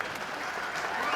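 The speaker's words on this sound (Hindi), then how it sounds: "अब ताली बजाओ।" A short burst of steady clapping from a small group, dense and continuous throughout, fairly close.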